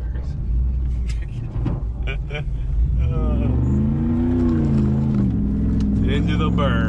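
A Dodge Dakota pickup revs hard during a burnout, its engine note climbing and wavering with a rough grinding edge. The sound is loud and sustained, and a voice talks over the engine early on.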